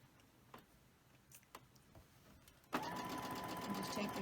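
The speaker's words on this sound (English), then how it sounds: "I'm holding on to it as the sewing machine pulls it through." Soft rustling and a few light clicks, then a sewing machine starts up abruptly and stitches quilt fabric at a fast, steady, loud whir.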